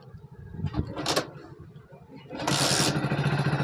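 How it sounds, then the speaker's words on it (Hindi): Hero Honda BS6 motorcycle with a check engine light on, kicked over and catching, its engine rising into a loud steady idle after a couple of short kick strokes, close by. "मारो किक लगाओ मोनू।"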